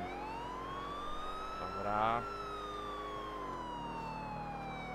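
Police car sirens wail continuously in Grand Theft Auto IV, a steady rising and falling tone over engine hum, with a brief word spoken midway.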